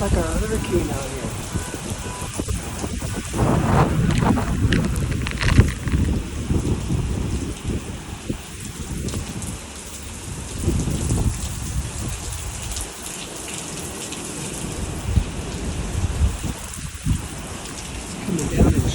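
Heavy rain pours down in sheets during a windy storm in Waikiki, a dense, steady roar lasting throughout, loud and close, with surges and gusts swelling the wash of sound.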